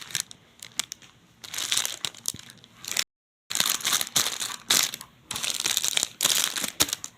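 Plastic bag crinkling and rustling as plaster shapes are packed into it, a close, busy run of crackles that stops briefly midway before resuming.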